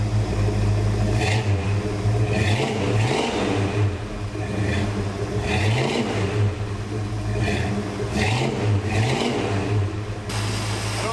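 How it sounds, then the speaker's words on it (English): A car engine idles with a throaty exhaust rumble, revving up several times in rising and falling surges, loud and close. "Listen to how good this thing sounds though. It's not bad for a bunch of garbage exhaust."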